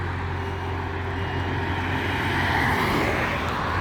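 Cars and trucks rush past at high speed on Hyderabad's Outer Ring Road, a steady loud roar of engines and tyres with low rumble throughout.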